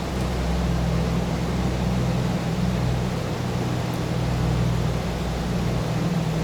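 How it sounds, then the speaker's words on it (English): Piston engines of a PMDG DC-6 Cloudmaster in a flight simulator, set to METO power at 48 inches and 2600 RPM, produce a loud, steady, close droning roar that runs throughout with no talking. "Hear the sound changing from the engines there."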